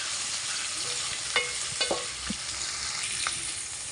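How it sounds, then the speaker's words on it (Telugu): Carrot pieces fry in a pan with a dense, steady sizzle close up. Occasional scraping stirs cut through the hiss. "మనం క్యారెట్ ముక్కలను కూడా యాడ్ చేసి ఫ్రై చేయవచ్చు."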